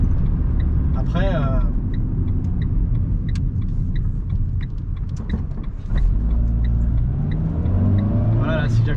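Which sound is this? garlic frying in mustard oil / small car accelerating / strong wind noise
small car accelerating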